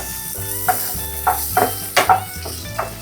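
Onions and green chillies sizzle in an oily pan, with a steady fry hiss under several distinct stirring scrapes spaced about half a second apart, close and moderately loud, with no talking.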